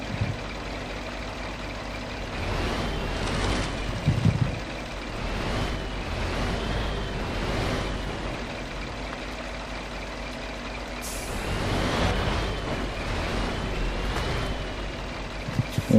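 A heavy off-road truck in the game MudRunner creeps backward with a low, rumbling engine drone, a few air-brake hisses and thumps breaking through as it moves slowly.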